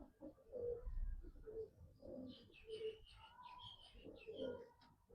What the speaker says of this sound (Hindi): ये कबूतर है भाई